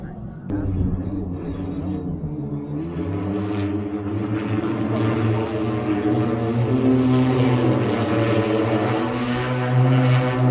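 A large multi-rotor passenger drone, the Pivotal Helix, flies nearby, its drone holding steady tonal humming layers that rise slightly in pitch and stay loud throughout.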